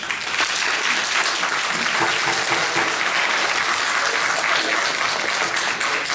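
A room full of spectators applauds after testimony at a North Carolina legislative study committee hearing on Common Core, producing a dense, even wash of clapping that runs throughout with no voices.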